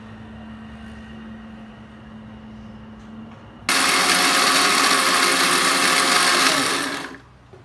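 A low hum gives way to a mixer grinder whirring loudly for a few seconds, grinding cloves and coriander into a spice paste, then winding down and stopping.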